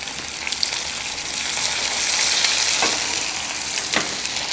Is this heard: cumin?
yes